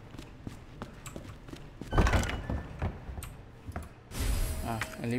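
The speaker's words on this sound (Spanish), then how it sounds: "voy a dejar la puerta abierta para que lo maten los zombies." A door opening in the Resident Evil 2 Remake video game, with a heavy thunk and creaking movement followed by a second, louder scrape, while someone talks over it.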